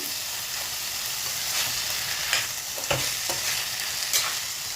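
Chicken pieces sizzle steadily in hot oil in a pan for an Andhra gongura chicken dish, with a few soft clinks and scrapes as they are stirred, close and without talk.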